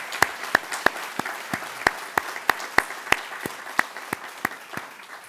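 A small room of attendees at an affordable housing summit gives a round of applause, a sparse, distinct rhythm of individual claps repeating at a steady pace, fairly close and with no talking over it.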